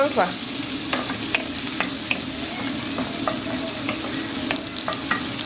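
Garlic sizzles steadily in a hot pan, with the crackle of frying and occasional scrapes and taps of stirring close by, no voices over it.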